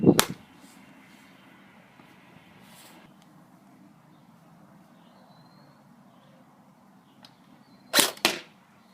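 An airsoft gun with a steel inner barrel fires at a target: a sharp crack opens, then quiet outdoor ambience, then two more quick snapping shots close together.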